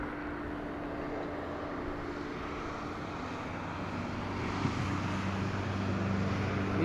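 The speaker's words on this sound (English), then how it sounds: "EasyJet passing Port Saint." An EasyJet airliner passes at Madeira airport with a distant, steady engine drone and low hum that swells slightly toward the end, no voices.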